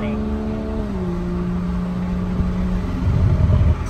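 A 2022 MK5 Toyota Supra with a downpipe, Tomei titanium exhaust and JB4 tune drones at a steady idle-to-cruise tone that dips in pitch after a second, then rumbles louder near the end, heard close with a voice underneath.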